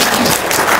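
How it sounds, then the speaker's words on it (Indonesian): Brief burst of applause as a sound effect, dense even clapping at steady loudness throughout, close and alone without talk. "Tepuk tangan dong."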